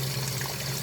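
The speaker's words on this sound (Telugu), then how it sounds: "ఈ పీసెస్ మునిగే వరకు వాటర్ నింపుతా" Water running steadily into a large pot of raw chicken pieces, a continuous close trickling wash with no voices.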